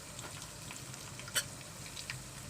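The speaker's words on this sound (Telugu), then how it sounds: "వెల్లుల్లి తాలింపులో వేసుకుంటాము" Garlic sizzles softly in tempering oil for a tamarind-leaf dal, a quiet continuous hiss with one sharp pop midway and a few faint crackles, no talking.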